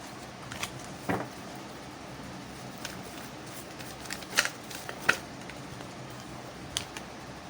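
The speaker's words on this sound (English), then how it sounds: "Let's pull one card from this beautiful deck" A tarot deck is shuffled close by in a quiet room, with soft repeated riffling and several sharper card snaps and taps scattered across the span.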